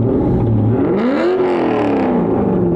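A classic car engine at a car show revs loudly, its pitch climbing and falling in a smooth sweep, with a steady rumbling idle underneath.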